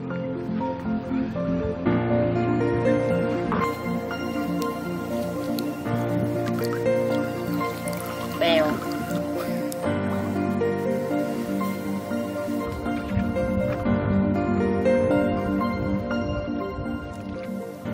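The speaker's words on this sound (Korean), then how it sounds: "진짜로 물소리밖에 안 들려요." Oars dip and water drips and gurgles around a small rowing boat gliding through a quiet flooded forest channel on the Mekong Delta, soft and steady with occasional splashes and no talking.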